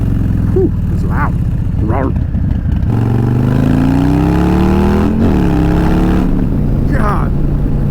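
Harley-Davidson Softail Low Rider S with a 131 Stage 4 engine on a ride, its loud exhaust rumbling at highway speed, then revving up through a downshift under wind noise while a rider talks over it.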